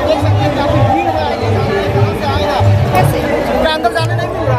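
A large crowd gathered at the Bageshwar Dham darbar fills the air with dense, continuous chatter and babble of many voices nearby, steady and loud throughout.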